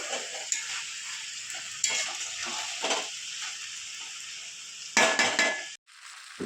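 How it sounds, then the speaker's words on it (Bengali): Fish and vegetable chorchori, small fish with potato and ridge gourd, being stirred in a pan, with steady frying sizzle under scraping strokes and a few clinks of the spoon against the pan, close and continuous. "ঢাকনাটা তুলে দিলাম এবার নাড়াচাড়া করে দিই"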